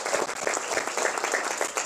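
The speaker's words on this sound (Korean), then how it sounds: "다시 한번 박수 한번 보내겠습니다" An audience at an anniversary ceremony applauds steadily with dense, sustained clapping, fairly loud and continuous throughout, no voices standing out.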